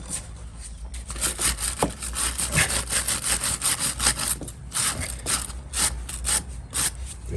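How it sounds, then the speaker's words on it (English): Wire brush scrubbed in quick back-and-forth strokes over a grimy chain, loosening crud with a steady rasping, scratchy rhythm close up, no voices. "So what this wire brush will do is it scores into that box."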